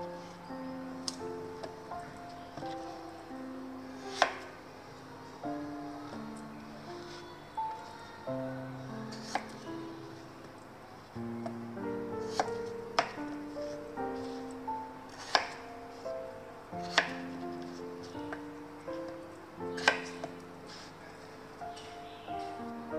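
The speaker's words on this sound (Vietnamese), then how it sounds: "Giờ khoai tây này mình đã gọt vỏ rồi. Giờ mình sẽ xắt ra thành những miếng vừa ăn." Knife chopping peeled potatoes and carrots on a cutting board, a quiet series of irregular sharp taps spread over more than twenty seconds, close by, with no talk.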